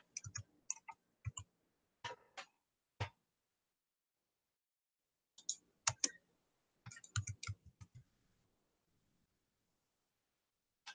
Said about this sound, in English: Let me see if I can type that in.